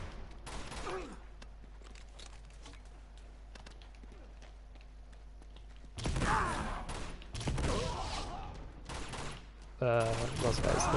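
Grenade launcher and gunfire in the game Uncharted 2, with loud, close blasts and bursts of shots breaking out after a quieter stretch of faint background ambience.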